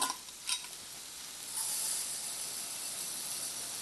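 Onions and garlic browning in a hot pan as barley goes in, a couple of quick stirring scrapes followed by a steady, fairly loud sizzle and hiss that holds throughout.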